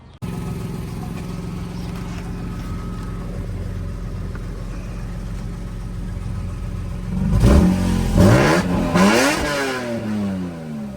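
A BMW E46 M3 with an exhaust leak idles with a steady rumble, then revs sharply several times in quick succession, each blip rising and falling loudly close by.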